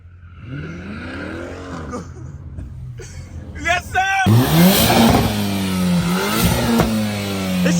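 Muscle car engine revving hard among a street takeover crowd, the rough throttle blips swelling into a loud, sustained roar close by with crackling exhaust pops, while people shout and talk excitedly over it.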